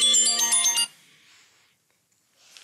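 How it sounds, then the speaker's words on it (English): A mobile phone ringtone plays loud and close as a bright repeating electronic melody for under a second, then cuts off, leaving near silence with faint background hiss. "That's my phone."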